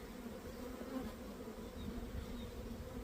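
Honey bees buzz steadily at a hive in spring, a soft, continuous drone with a few individual insects passing close, quiet and even throughout.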